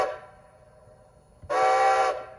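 A single short train whistle blast, a bright steady harmonic tone lasting about half a second, sounding loud and clear right after a fainter fading whistle tone.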